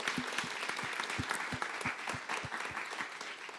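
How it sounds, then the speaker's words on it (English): Audience applause for a presenter at the close of an assistive technology presentation, a steady patter of many hands clapping close by, with a few sharp individual claps standing out across the clip. "Please give Carolyn a round of applause."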